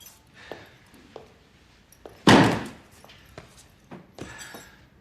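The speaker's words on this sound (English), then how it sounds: "open the door" A single heavy door thud stands out midway through a quiet room, surrounded by faint scattered clicks and small knocks.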